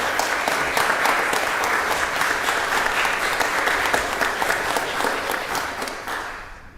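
A church congregation at a Sunday service breaks into sustained applause, many hands clapping in a full, even roar with faint rhythmic claps poking through, gently tapering off at the end.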